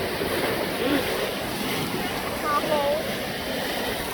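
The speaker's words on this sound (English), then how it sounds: "you get like such an appreciation of how big those waves are" Big ocean waves surge and wash continuously below a pier, a broad steady roar of surf mixed with wind buffeting the microphone, with no clear speech.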